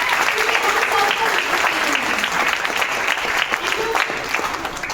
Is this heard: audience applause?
yes